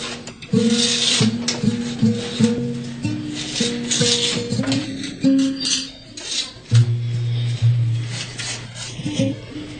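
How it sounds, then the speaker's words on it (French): Wooden lute parts being cut by hand with a saw, a rough rasping stroke repeated in an irregular rhythm, close and fairly loud, with faint voices in the background. "le découpage des pièces se fait à la scie"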